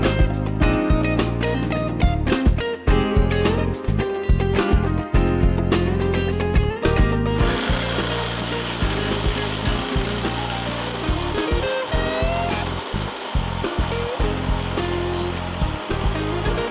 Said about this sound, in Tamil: மிளகு, சீரகம், தனியா, துவரம்பருப்பு இதை அரைச்சிக்க போகிறோம்.